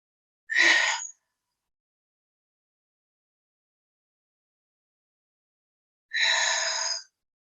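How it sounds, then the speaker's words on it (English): Two slow, deep breaths are drawn through the nose and mouth during a calming breathing practice, a short inhale followed after a long silence by a longer exhale, close and clear. "take a deep breath."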